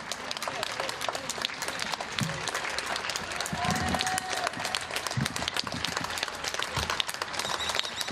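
Residents of Košice applaud from their balconies for rescuers, doctors and drivers: dense, sustained clapping from many hands spread across a wide urban space, with scattered whistles and faint cheering throughout.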